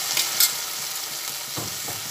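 Sesame paste being stirred into okra in a pan, a steady sizzle with a few quick scraping strokes near the end, short and close.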